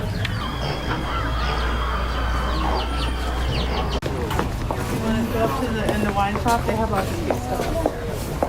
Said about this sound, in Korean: 저기에 병아리들이 있다, 병아리들.